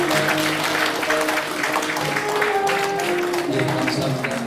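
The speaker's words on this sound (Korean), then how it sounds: "여러분 축복의 박수 부탁드립니다" Wedding guests applaud in steady, sustained clapping, with crowd chatter and faint music beneath.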